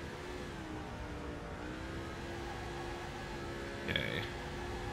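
A race car engine in the NASCAR 2005 Chase for the Cup video game drones at a steady high pitch, evenly sustained with a brief higher-pitched blip near the end and no voices.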